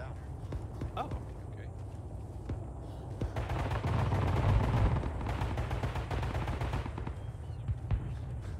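A commander fires a weapon in Arma 3's S.O.G. Prairie Fire Vietnam combat, with rapid repeated bursts of automatic gunfire at moderate distance over several seconds, mixed with voices and battlefield noise.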